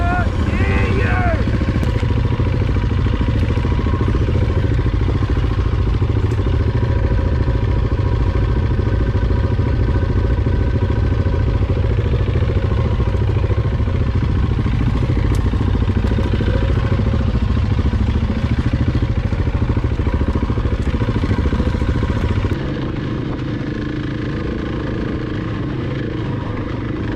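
A motorcycle engine runs loudly and steadily close by during a camping trip in the Watagans, a thick rumbling drone with rattly clatter that drops to a lower idle near the end, with people talking over it.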